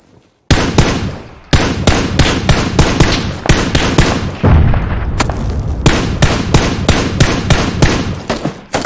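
Rapid, loud gunshots in the battle royale game PUBG during a squad match, a long string of sharp close reports fired in quick, fairly steady succession with brief gaps.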